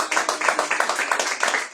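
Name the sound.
church congregation clapping and cheering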